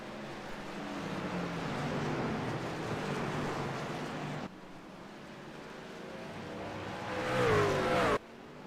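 Race trucks roar around the Sonoma circuit in a video game truck series race, a continuous loud engine drone that swells as a pack passes, cuts abruptly, then builds again with rising whining revs.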